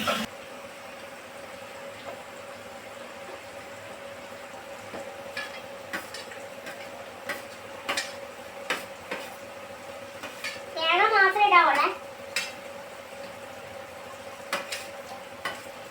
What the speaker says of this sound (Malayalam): ഇത് തേങ്ങ വറുക്കാൻ പോകും